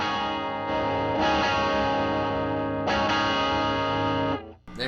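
Electric guitar played through a Dumble-style overdrive pedal, volume rolled back for a clean tone: sustained, ringing chords with bright overtones, loud and close, one restrum near the middle before the notes cut off at the end.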